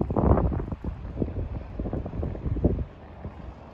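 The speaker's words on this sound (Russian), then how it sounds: "Ветер сегодня сильнее," Strong wind buffets the microphone outdoors in Norilsk on a sunny day, with loud gusting rumble throughout that eases near the end.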